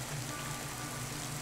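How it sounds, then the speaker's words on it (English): Steady rain falls on outdoor surfaces in Ireland, an even, dense hiss with no breaks, heard alone for a brief moment. "It had been raining all night."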